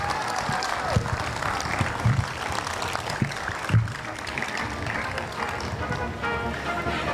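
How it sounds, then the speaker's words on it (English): Audience applause for a performer portraying Elizabeth Cady Stanton at a Chautauqua event, a dense, steady wash of clapping that carries throughout with a few louder bursts and some voices mixed in. "One more round of applause for her."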